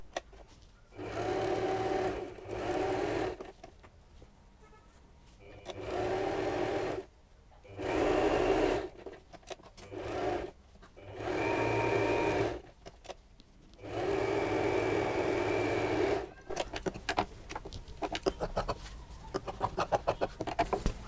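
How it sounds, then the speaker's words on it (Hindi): An electric sewing machine set to a normal straight stitch runs in repeated bursts of a few seconds each, a steady whirring hum while stitching lining around quilted scrap-fabric pieces, with short pauses between runs and faint handling noises at the end. "मशीन को हमने नॉर्मल मोड पर कर लिया है जिसमें साधारण सिलाई की जाती है और अब इस लाइनिंग को हम इसके साथ चारों"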